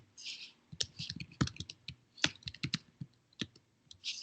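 Typing on a computer keyboard: quiet, irregular clusters of light key clicks and taps, close and soft, continuing steadily without talk.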